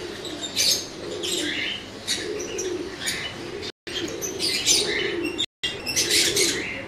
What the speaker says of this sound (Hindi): तो दोस्तों ये टैडी और अंबाले वाले जो कबूतर हैं